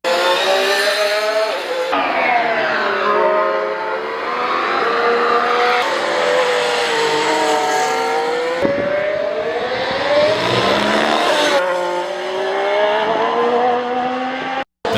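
A Cadillac Formula 1 car circuits a track during preseason testing, its high-pitched engine wailing loudly and continuously, rising and falling through gear changes with sudden shifts in pitch as it accelerates and passes.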